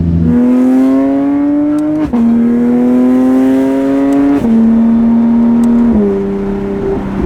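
Porsche 992 GT3 RS engine pulling hard up a narrow mountain road, loud and close, rising in pitch through several gears with sharp drops at each upshift, no talking.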